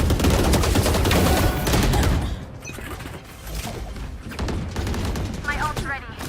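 Rapid bursts of gunfire and explosions in the tactical shooter Valorant during a competitive match, loud and dense at first, then thinning into scattered shots under voices talking.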